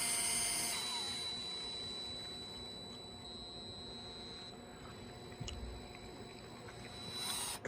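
A Craftsman CMCF604 cordless screwdriver runs at full speed with a faint, steady high whine. A low background hum sits under it and there is no talk.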